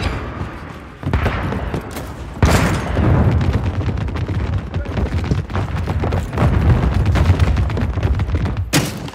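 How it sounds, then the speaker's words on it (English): A cruise missile launches in Call of Duty Modern Warfare III: loud, dense booming blasts at steady close range, with sharp louder bursts standing out amid continuous rumbling battle noise. "Launched a cruise missile."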